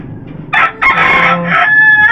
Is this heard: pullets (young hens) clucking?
yes